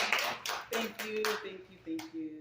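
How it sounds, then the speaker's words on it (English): An open-mic audience gives a short round of applause: scattered, uneven claps come in bursts, mixed with voices and a few tonal calls from the room. "So, round of applause for Yuta for everything that you do."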